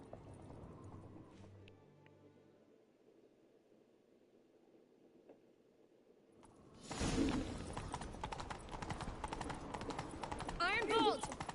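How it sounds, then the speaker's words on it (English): Horses galloping during a chase in a video game, their hooves thudding in a dense, loud, rapid clatter after a quieter stretch of ambience and voices. "Grab a horse, we'll chase him down."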